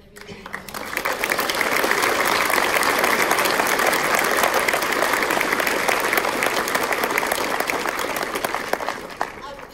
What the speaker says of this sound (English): I wanted to give him a really great round of applause with everybody.